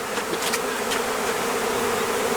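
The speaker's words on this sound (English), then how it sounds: "Do not crush the bees, because you got quite a few bees down underneath here" Honey bees buzz loudly and steadily at close range as a package of bees is placed into a hive, a dense continuous drone with a few brief sharper clicks.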